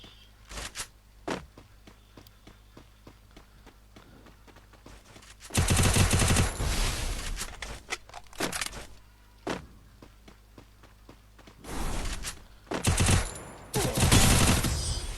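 Bursts of gunfire from a shooter video game, with single shots early on followed by several loud sustained automatic volleys later, standing alone without talk.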